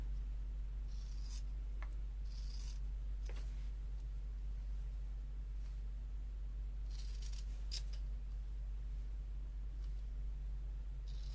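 Scissors snipping a craft piece, several quiet, brief cuts spread across the clip over a low steady hum.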